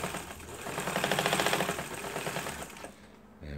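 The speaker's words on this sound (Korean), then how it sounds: "이 벨트에 재봉틀이 부드럽게 회전하는" Antique wheel-driven sewing machine running on its belt after repair, a fast, even mechanical clatter that builds and holds steady, then slows and drops away near the end, close and fairly loud.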